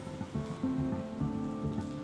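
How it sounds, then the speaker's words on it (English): Steady rain falling in Ikate, a community in Surulere, Lagos, a dense broadband hiss with low rumbling patter, fairly loud and continuous with no talking. "It's a rainy day."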